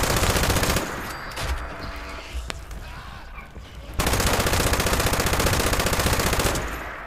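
Sustained automatic weapon fire in a shooter video game, a loud dense stream of shots that drops away briefly mid-way and then resumes at full intensity.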